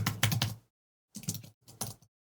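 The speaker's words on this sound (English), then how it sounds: "go into the email and type in dear admin" Keystrokes on a computer keyboard while an email is typed, a quick burst of clicks followed by two shorter bursts after a pause, close and fairly quiet.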